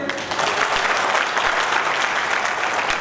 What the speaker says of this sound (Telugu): కాబట్టి గ్రాండ్గా క్లాప్స్ కొట్టండి.